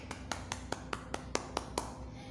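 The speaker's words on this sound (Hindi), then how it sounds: "अपने लिए तालियां बजाएं।" Nine quick, evenly spaced hand claps ring out in a steady rhythm, close and fairly soft, over a low background hum.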